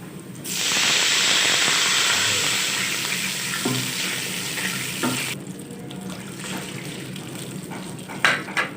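About one and a half cups of water hit a hot pan of oil fried with cumin and green chillies, a loud rushing hiss that fades into softer bubbling and sizzling.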